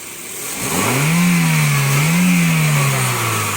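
A Toyota Corolla pickup's engine, just repaired after misfiring, revs up from idle, surges twice, then settles back down, loud and close with no talk.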